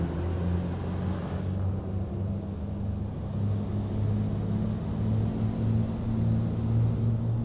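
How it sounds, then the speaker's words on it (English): Steady low diesel drone of a Kenworth W990 logging truck hauling logs in American Truck Simulator, a continuous near engine rumble cruising at even load with no talk over it. "So that's a major part of this game for me, is the truck sounds, obviously."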